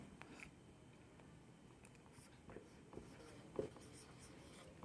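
A pen scratches out notes on paper for a physics lesson on the magnetic effects of electric current, a faint, close, steady writing sound with small taps and no talking.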